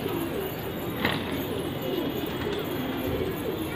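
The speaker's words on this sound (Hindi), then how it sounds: "आजकल ये लो रेजा हमारे कबूतर रेजा लगाए हैं, पर झाड़ लें" Pigeons coo in a rooftop loft, a soft continuous cooing with a brief louder burst near the start, no talking.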